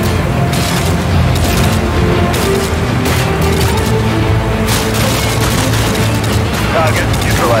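Gunfire from Call of Duty: Modern Warfare 2 on an oil platform mission, a dense, continuous roar of shots and booms under game ambience, loud throughout with no clear pauses.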